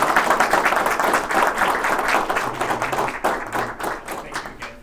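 An audience applauds Dan Barker at a talk in Chesapeake, a dense, loud spread of clapping that holds steady for several seconds and then thins and fades toward the end.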